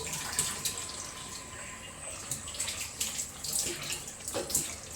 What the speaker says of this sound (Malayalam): ശർക്കര പാനി ഒഴിച്ച് കൊടുക്കുകയാണേ